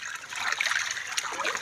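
Water pours from a borewell as a faint, steady trickle and splash, with voices talking nearby.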